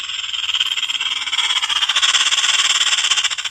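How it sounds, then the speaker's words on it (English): A Loraffe rodent repeller speaker plays a rattlesnake rattle: a steady, loud, hissing buzz with a fast pulsing flutter that runs without a break. "There's your rattlesnake."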